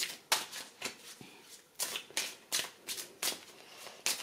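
Tarot cards shuffled, drawn and laid out during a reading, a string of crisp papery flicks and slaps coming at a steady, close rhythm with no voices.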